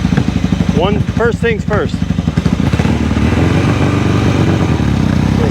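A Kawasaki KZ750 motorcycle engine runs steadily at idle throughout, close and loud, with someone talking briefly over it near the start.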